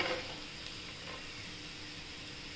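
Garlic cloves frying in oil for a bitter gourd chutney give a soft, steady sizzle, quiet and continuous, with a slightly louder crackle at the very start and no voices.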